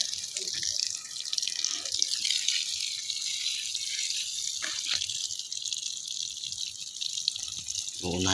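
Water runs steadily from a tap or hose while plants are watered, a constant close hiss with small splashes and shifts in flow that go on throughout.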